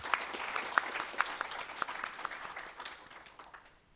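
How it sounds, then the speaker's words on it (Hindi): Audience applause at a Hindi-language event, a room of clapping hands with a few sharp individual claps standing out early, steady at first and then thinning out toward the end. "मैं चाहता हूं कि आप सभी अपने लिए एक जोरदार तालियां बजाएं।"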